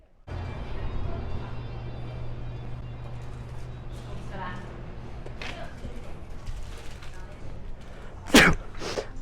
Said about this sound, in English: He's purposely sneezed on my hat.